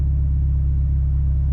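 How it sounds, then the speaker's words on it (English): Poorly sounding car motor, swapped into a car that once sounded good, rumbling steadily at a low, droning idle, loud and close with no talk. "you had a good sounding car and you put the worst sounding motor you could find in it"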